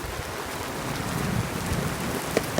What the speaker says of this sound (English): Another big downpour. Oh, wow. Yeah, this is really heavy.